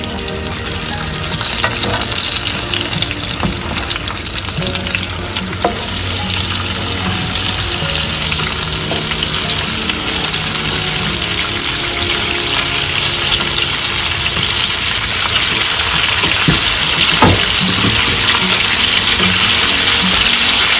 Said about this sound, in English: And now, when the oil is getting hot, I'll add these pieces to it.